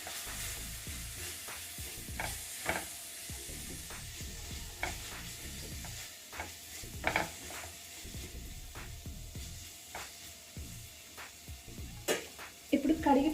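Chilli powder and salt are stirred in a pan, a spatula tapping and scraping in repeated light strokes over a faint sizzle, close but quiet, ending in a louder scrape.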